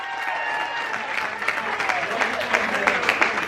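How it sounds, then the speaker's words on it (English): Wedding guests applaud after a welcoming speech at an outdoor ceremony, a dense wash of clapping from a crowd with a few louder claps standing out and voices mixed in. "Let's give him a big round of applause."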